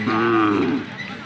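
A bull lows loudly at a Khillar cattle market in Peth Vadgaon, Kolhapur: one long, deep, close moo that swells and then fades, heard alone without talk.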